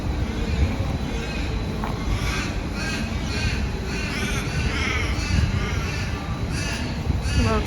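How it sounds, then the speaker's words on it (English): Noisy birds near Adelaide Oval caw harshly again and again, loud and close, over a constant outdoor wash of wind and traffic. "The world's noisiest birds"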